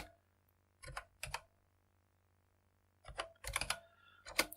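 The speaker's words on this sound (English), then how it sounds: "My typing isn't normally this bad." Keys clatter on a computer keyboard in short, uneven bursts of clicky typing, a pair of quick flurries, then a pause, then a denser run of taps, close and fairly quiet.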